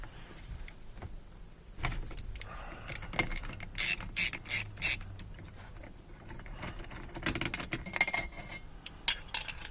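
A ratchet wrench with a 24 mm socket turns in bursts of rapid clicking, close and fairly quiet, with short pauses between strokes during work on a VW T4 Eurovan ignition key cylinder.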